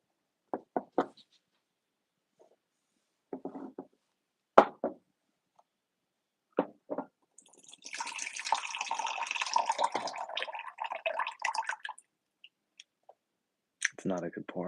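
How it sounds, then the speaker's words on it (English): A drink is poured with a few knocks and clicks, then a splashing pour of liquid for about four seconds, followed by more scattered clicks; close and clear. "It's not a good pour."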